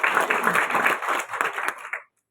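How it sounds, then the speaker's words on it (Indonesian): A church congregation applauds during a sermon, giving dense, steady clapping with some cheering for about two seconds before it stops abruptly. "Mari tepuk tangan dulu buat Tuhan Yesus."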